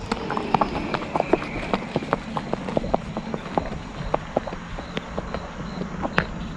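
A mare's hooves clip-clop in a steady walking rhythm, with crisp, evenly spaced strikes close by over a low rumble of background noise.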